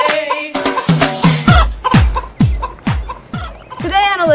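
A chicken calls loudly and repeatedly up close, with a rapid run of clucks and squawks in an uneven rhythm and no other sound around it.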